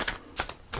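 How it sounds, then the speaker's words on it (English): Tarot cards are shuffled by hand in three short, soft papery bursts with quiet gaps between them, close and faint, with no talking. "One more shuffle."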